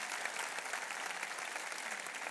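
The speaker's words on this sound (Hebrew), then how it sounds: "חברים, מחיאות כפיים אדירות" An audience at a lecture on the brain and illusions breaks into applause, a dense, steady clapping that sounds somewhat distant and fills the whole moment without any voices.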